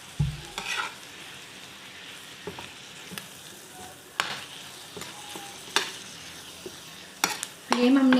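Spices being stirred into mutton in a pan on low heat, with a soft sizzle throughout and scattered spoon scrapes and clinks against the pan, quiet and close, no talking.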